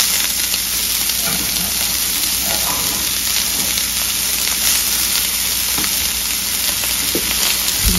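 Food fries fast in a hot pan at home, giving a steady close sizzle with a few light stirring knocks throughout.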